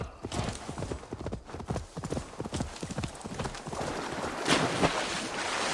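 Galloping horse hooves in Assassin's Creed Valhalla, a fast, steady clip-clop rhythm that runs the whole time, loud and close, with a brief louder burst near the end and no talking.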